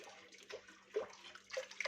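Water poured over about a quarter kilo of washed lentils in a cooking pot for lentil soup, heard as faint intermittent splashing and trickling in several short bursts, close and quiet, with no voices.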